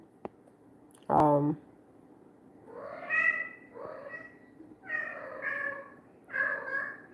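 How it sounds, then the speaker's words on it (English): A vocal cat meows loudly several times in a row, drawn-out harmonic cries spaced a second or so apart, close to the listener, after a brief human sound at the start. "Well, I got the vocal cat."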